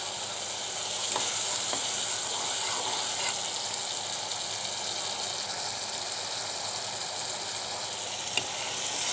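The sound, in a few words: frying spice masala in a pan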